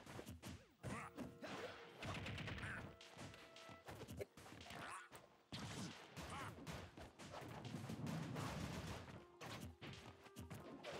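Joker's guns firing in Super Smash Bros. during an offline match against Wario, repeated sharp shots and crashing hits in fast clusters with short gaps, amid busy game sounds.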